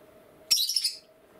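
A pet budgerigar gives one short, bright burst of chirping lasting about half a second, close and clear, over a faint steady hum in an otherwise quiet room.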